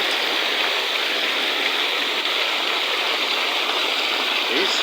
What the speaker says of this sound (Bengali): সেই দারুণ বৃষ্টি